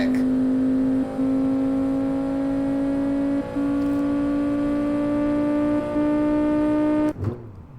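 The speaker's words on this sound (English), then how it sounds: "That engine acceleration is insane. Like, it just hits high-end revs so quick." High, sustained engine whine from a car in BeamNG.drive, holding near-constant revs with brief dips at gear changes before cutting off abruptly at the end.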